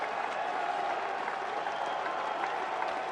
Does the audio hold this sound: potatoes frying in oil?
no